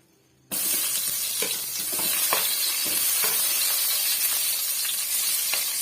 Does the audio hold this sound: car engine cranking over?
no